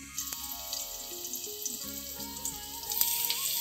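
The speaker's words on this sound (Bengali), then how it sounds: "এই যে আমার পেঁয়াজ আর আলু একটু লাল লাল করে ভাজা ভাজা হয়ে গেছে।" Onions and potatoes fry in a pan for a Bengali katla fish curry, giving a steady soft sizzle with faint watery crackle and no talking.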